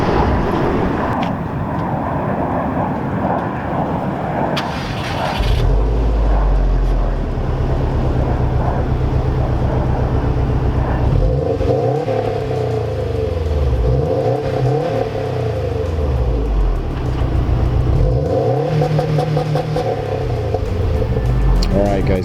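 A Subaru WRX STI starts up with a loud burst, then idles before its engine is revved in several rising and falling sweeps, close and loud throughout.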